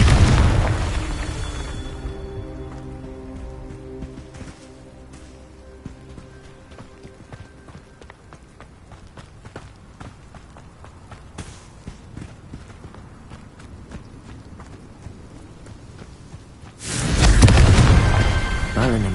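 A Confringo fire spell explodes in the Hogwarts Legacy video game on the hardest difficulty: a loud boom rings out and fades into lingering tones, followed later by another heavy blast.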